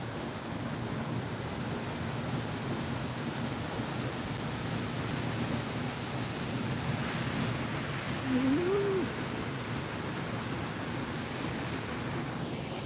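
Steady broadband roar of strong, cold wind during rain in Dubai, blowing without pause, with a brief tonal whine rising near the end.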